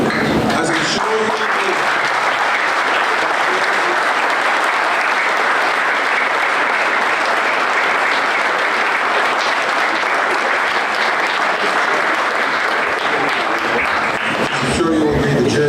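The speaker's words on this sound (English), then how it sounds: "give the players a round of applause again" A crowd at a football club's brand and jersey unveiling claps loudly and steadily for the players. The long, dense applause fades toward the end as voices return.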